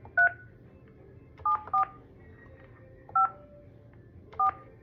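Touch-tone keys on a phone beep as a number is dialed, five short, clear, close tones in an uneven rhythm over a quiet background.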